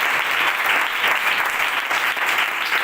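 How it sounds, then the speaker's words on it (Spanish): A Bible class audience applauds at the close of the lesson with loud, continuous, evenly dense clapping and no voices. "Dale un fuerte aplauso."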